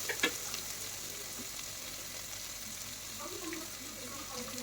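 Finely chopped shallots fry in a pan for chicken curry, a quiet, steady sizzle with occasional stirring scrapes while a voice talks softly over it.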